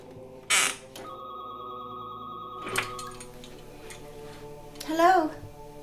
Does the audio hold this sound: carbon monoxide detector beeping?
no